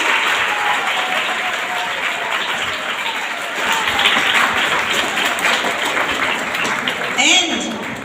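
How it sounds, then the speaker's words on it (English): Sustained audience applause at a school gathering fills the whole stretch as a dense, even wash of many hands clapping, swelling slightly partway through before tapering near the end. "So a big round of applause for them."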